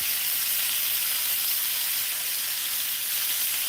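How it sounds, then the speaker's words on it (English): Bacon sizzles and crackles steadily in a frying pan on the stove, a dense, constant hiss with no talking over it. "I'm also optimistic that our bacon is not gonna burn in here."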